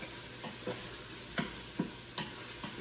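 Onions and garlic sautéing in an Instant Pot: a soft, steady sizzle with a spoon scraping and stirring in several distinct strokes, close and moderately quiet.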